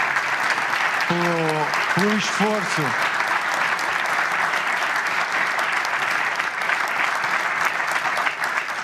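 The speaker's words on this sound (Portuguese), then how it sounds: "Pedir uma salva de palmas" Loud, continuous applause from a crowd of FC Porto supporters at a club day event, with a voice briefly speaking over the start before the clapping carries on alone.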